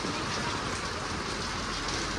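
Steady rain falls on surfaces all around, a dense, continuous hiss of drops with no voices, fairly soft and even throughout.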